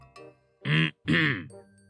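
A voice imitates a duck, giving two loud, nasal, drawn-out quacks after a short throaty sound, then a softer trailing note.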